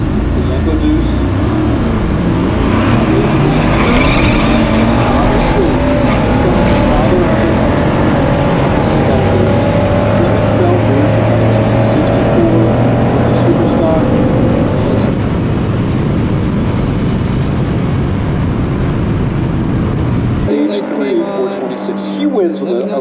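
A Yenko Deuce with a 350 small-block V8 rated at 360 horsepower roars through a drag strip run, a loud sustained engine drone with shifting tones and crowd or track noise, ending abruptly near the close.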